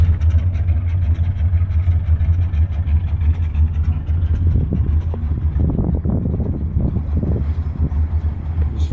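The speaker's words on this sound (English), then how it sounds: "Stock exhaust." A 1968 Dodge Monaco 500 convertible with a big-block engine and stock exhaust idles outdoors, a loud, steady low rumble with a slight lope that runs the whole time, faint handling sounds near the end.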